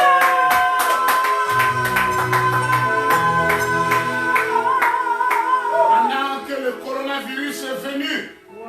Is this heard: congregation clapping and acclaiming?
yes